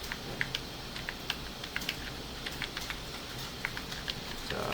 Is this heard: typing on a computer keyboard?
yes